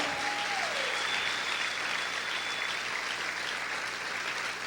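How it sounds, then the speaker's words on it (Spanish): A church congregation claps loudly for the Lord during a sermon, a dense, sustained roar of applause with a faint held tone running through it. "¿Cuántos pueden aplaudir fuerte al Señor?"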